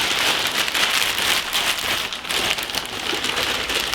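A tactical emergency blanket being unfolded and let drop, a loud continuous crinkling rustle of thin foil that stays dense and close throughout.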